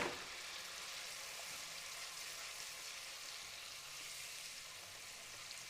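Ginger, garlic and green chilies fry steadily in hot oil for an Indian restaurant-style tomato puree, giving a dense, even sizzle close by that holds at the same level throughout with no voices.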